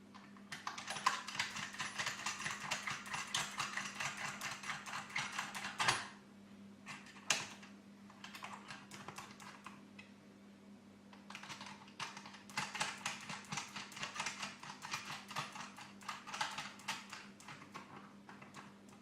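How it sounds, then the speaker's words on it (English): Screws being done up on a Sangamo Schlumberger radio teleswitch during reassembly: faint, rapid clicking and ratcheting in two stretches with a quieter pause between, over a low steady hum. "And we do those screws up."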